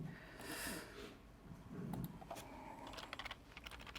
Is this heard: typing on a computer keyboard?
yes